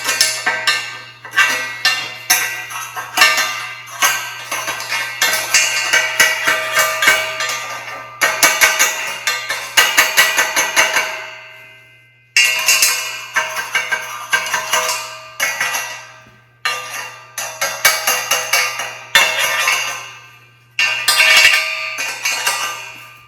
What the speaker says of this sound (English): grab yourself a cold chisel and start looking for slag to chip off